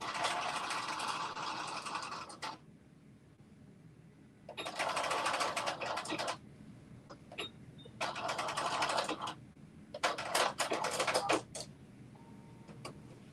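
A home sewing machine stitches a New Look 6667 garment in loud bursts of a few seconds each, stopping between runs, with faint room noise in the pauses.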